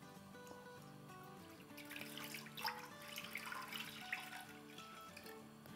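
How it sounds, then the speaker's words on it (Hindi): Whole milk pours into a cooking pot for firni, a soft continuous liquid trickle and splash that swells midway and continues steadily, with a faint tonal hum underneath. "1 लीटर में से 3 कप अभी हम डाल रहे हैं अपने पतीले में"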